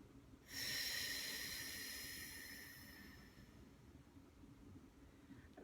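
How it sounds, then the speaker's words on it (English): A single long, deep inhale during a voice and breathing exercise, starting abruptly with a strong airy rush close to the microphone and gradually fading over a few seconds into quiet room tone, with no talking. "Let's breathe in again."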